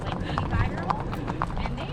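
Horse hooves clip-clop on the ground in Apache Junction, Arizona, with a few distinct steps mixed into a busy outdoor background where people are talking.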